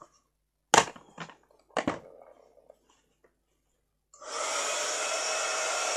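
Embossing heat tool used in stamping craftwork, switching on after a few clicks and handling knocks and then blowing a steady, loud, airy hair-dryer-like roar to the end.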